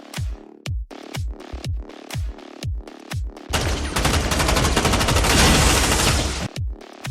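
Gunfire rings out in an action film battle: a string of sharp, separate single shots, then a dense burst of rapid automatic fire lasting a few seconds, then more single shots.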